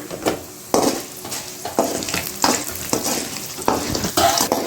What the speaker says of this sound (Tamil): இப்போ இது வந்து மிளகாவும் நல்லா வறுந்துச்சு